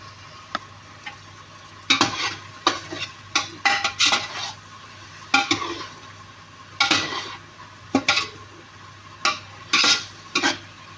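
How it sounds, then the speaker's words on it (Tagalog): A spoon scrapes and clinks against a frying pan as food is stirred, giving repeated close metallic strokes in uneven bursts over a faint low hum, with no talking. "Mix natin"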